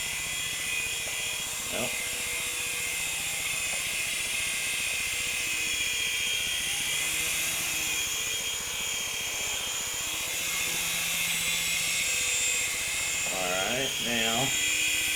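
A small model helicopter lifts straight off and hovers, a steady high buzzing whine running throughout with faint talk over it.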